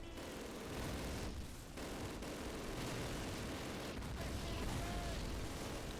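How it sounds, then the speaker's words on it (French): Mortar fire during a Normandy battle in Call of Duty (2003), a dense, continuous roar of blasts and gunfire rumbling throughout, with a couple of sharper dips and bursts in the din. "C'est pas fini là les mortiers?"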